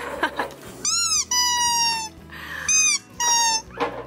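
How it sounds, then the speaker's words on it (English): Squeakers in a soft plush dog toy are pressed repeatedly, producing several loud, high, wavering squeals in short bursts, each one a second or less long, separated by rustling and handling noise. "More squeakers on the other side."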